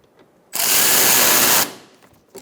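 A power tool runs in one continuous burst of about a second, whirring loudly while tightening fasteners under the driver's side of a 2012-2018 Ford Focus 2.0L during a coolant temperature sensor replacement, then falls quiet.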